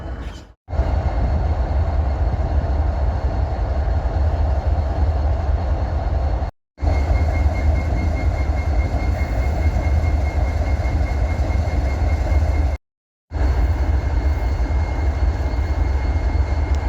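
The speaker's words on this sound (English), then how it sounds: "Looks like we got a stack train waiting to get into the yard or waiting to get going north" A stack freight train led by ES44DC and SD70M-2 locomotives sits near a rail yard, its engines giving a loud, steady low drone with a faint tonal hum, broken by two brief dropouts.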